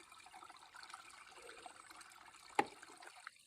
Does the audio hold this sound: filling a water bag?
yes